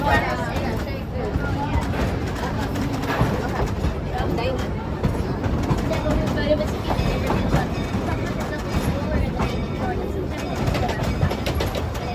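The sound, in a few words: train ride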